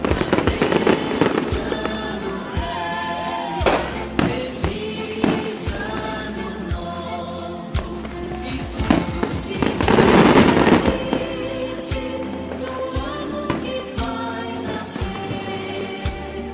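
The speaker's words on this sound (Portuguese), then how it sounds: "É a hora do Marcelão colocar aqueles fogos, né? Por conta do ano novo no nosso efeito de vídeo e de som." A New Year fireworks sound effect fills the air with dense crackles and sharp bursts, loud and continuous, with a swell of crackling near the middle and tonal background sound running underneath.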